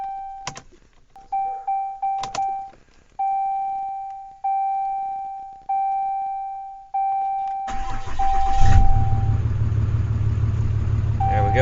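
A Ram 6.7L Cummins diesel fires up after its fuel filters are changed and the fuel system is primed, then settles into a loud, steady, close idle. A run of dashboard warning chimes comes before it, and a voice speaks briefly.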